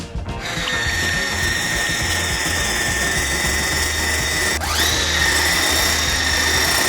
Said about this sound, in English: we whisk the egg whites